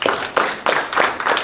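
Audience at a university faculty training gathering clapping, standing as a guest walks to the stage; bursts of hand claps come in uneven waves, fairly close and steady, with no talk over them.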